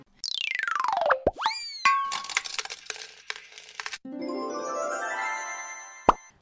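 A radio advertisement jingle on a Taiwanese stock-market talk show: a bright synthesized sequence of falling chirps, boings, sparkly tinkles and a rising tonal sweep, ending in a sharp ding, loud and with no speech.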